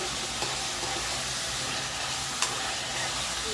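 Food frying in a pan for a gravy with ginger paste, a close, continuous crackling sizzle with a few soft clicks of stirring, steady and without talk.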